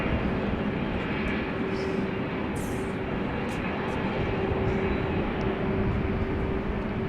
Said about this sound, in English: Iceland Air, the 767, which landed on Polderbaan, is now over here. You might pick up on its engine sounds.